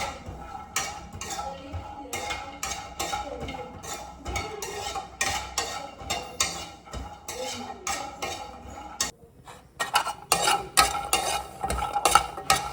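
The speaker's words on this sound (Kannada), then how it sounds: "ಅದರಲ್ಲೇ ಎಲ್ಲ ಡ್ರೈ ಫ್ರೂಟ್ಸ್ನ ರೋಸ್ಟ್ ಮಾಡ್ಕೊತೀನಿ" Dry fruits roasting in a pan with about two spoons of ghee, stirred steadily with a metal spoon: rapid rhythmic scraping and clinking against the pan over a soft sizzle, close and continuous.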